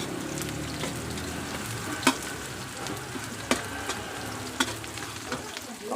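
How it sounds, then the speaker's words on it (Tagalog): Ginger goes into a hot frying pan for escabeche, giving a steady loud sizzle and crackle with a few sharp clinks of a utensil against the pan. "Lagay na natin luya."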